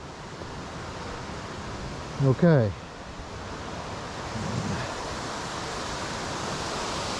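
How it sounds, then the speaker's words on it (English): Creek water rushes steadily into a sinkhole on a day hike near Virgin Falls, a constant broadband roar that runs the whole time while someone briefly speaks. "You see all that water coming down right there and there?"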